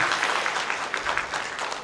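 Dense applause from an audience, steady and fairly loud throughout the short burst, with no voices over it.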